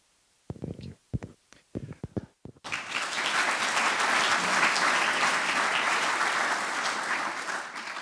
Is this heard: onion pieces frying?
no